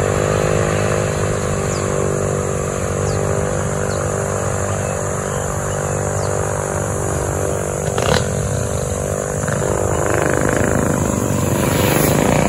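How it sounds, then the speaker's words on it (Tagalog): A steady, loud motor drones with a buzzing harmonic whine. It comes from a motor-assisted bicycle and holds nearly constant the whole time, close to the listener, with a brief clatter partway through. "galing ng bike niya, parang may motor"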